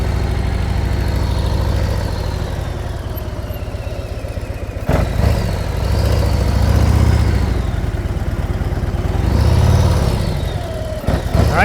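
A motorcycle engine at low throttle during slow-speed riding practice, idling steadily and loud with a few gentle rises in revs, no voices heard.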